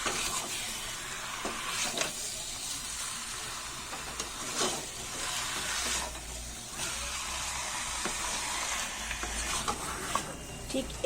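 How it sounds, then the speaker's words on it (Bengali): Chicken pieces being stirred with spices in a hot, sizzling pan for a country chicken curry, giving a steady frying hiss with scraping stirring strokes throughout, close and without talk. "ভালো করে নাড়িয়ে দেব মশলাটার সাথে যাতে মাংসটা ভালোভাবে মিশে যায়"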